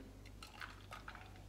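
Juice being poured into an ice lolly container: a short, close trickle and splash of liquid, with a few brighter drip-like bursts over a low, steady background hum. No one speaks.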